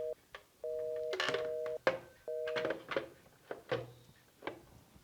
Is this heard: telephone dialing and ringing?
yes